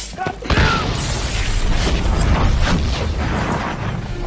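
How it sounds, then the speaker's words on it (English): A grenade explodes in the video game Army of Two: The Devil's Cartel, a sharp close blast followed by a loud sustained rumble and debris noise lasting several seconds. "Grenade out!"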